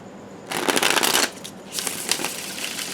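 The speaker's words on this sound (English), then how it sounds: "We'll do one more shuffle" Tarot cards are riffled in two quick shuffles, a crisp fluttering burst followed by a brief pause and a second, softer riffle.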